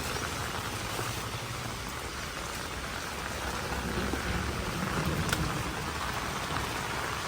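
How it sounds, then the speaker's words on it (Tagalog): Steady, dense rain falls continuously, a hissing wash with scattered drops, no voices, with a faint low rumble beneath. "bakit umuulan?"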